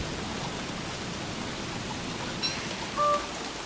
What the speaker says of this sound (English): I wish it would stop raining so I could dry off just a little bit here